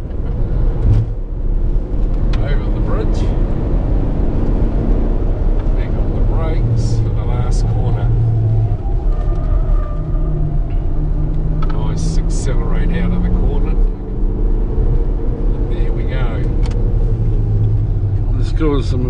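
A stock diesel taxi car driven fast over a rough course with whoops, its engine a loud steady rumble with road noise throughout, while people talk and exclaim over it.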